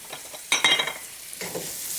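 Onion, ginger and lemongrass sizzling in a pan for a Jamaican curry cod, with stirring clatter and bursts of crackle about halfway through and again near the end, close and moderately loud, with no voices.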